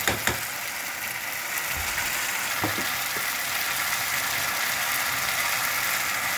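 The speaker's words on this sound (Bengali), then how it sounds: "এবার এটা ভাজা ভাজা হবে" A continuous sizzling hiss of tomato paste frying in a pan for mushroom paneer do pyaza, with a few brief clinks of a utensil near the start.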